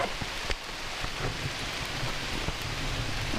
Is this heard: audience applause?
no